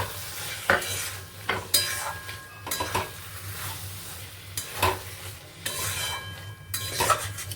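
Boiled mutton mince and tomato are stir-fried in a pan, a soft continuous sizzle broken by repeated scraping, clinking strokes of a spatula against the metal, each a few seconds apart.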